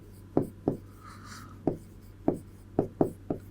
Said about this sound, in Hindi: मैं यहां पे लिखता हूं